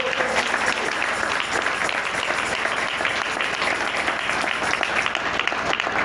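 A church congregation bursts into loud, sustained applause for Jesus Christ, dense steady clapping with a few voices mixed in throughout.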